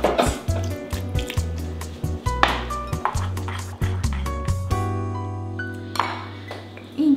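Water poured in and stirred through a chicken apukht mixture in a bowl, with wet squishing, dripping and occasional clinks of utensil on dish, close and steady with a low hum beneath.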